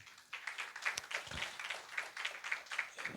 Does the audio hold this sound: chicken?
no